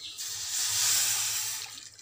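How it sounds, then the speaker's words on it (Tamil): Water is poured into a kadai over jaggery, a steady broadband splashing stream building and easing over two seconds, close and fairly loud with no talk. "வெல்லம் முழுகிற அளவுக்கு தண்ணி ஊற்றிக்கிட்டால் போதும்."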